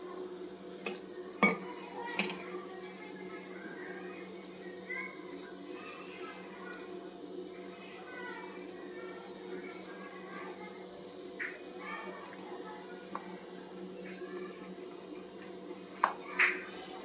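Gram-flour batter for kadhi pakoda is stirred in a bowl as water is added, giving soft scraping and occasional sharp clinks of a spoon against the vessel, faint and intermittent over a quiet kitchen hum.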